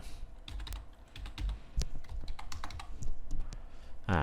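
A computer keyboard clacks close by as a password of eight or more characters is typed, with irregular quick keystrokes and a few heavier key presses, no one talking.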